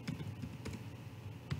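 Fingers tapping a computer keyboard in a quick, uneven string of light keystrokes, faint and close, with no one speaking.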